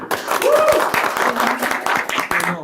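A studio audience at the comedy game show Битва на смех applauds steadily and briskly while a voice and some tonal sounds carry over the clapping.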